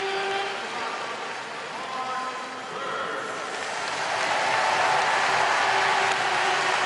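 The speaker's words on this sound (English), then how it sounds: "The crowd are on their feet already" A stadium crowd roars before the men's 100 m final in which Usain Bolt set the world record, a broad, sustained wash of cheering that swells toward the end while a commentator talks over it.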